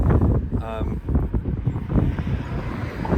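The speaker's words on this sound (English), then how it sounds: "Wind's kicking up." Gusty outdoor wind roars loudly and continuously against the microphone, with a low rumbling buffet throughout and no clear pauses.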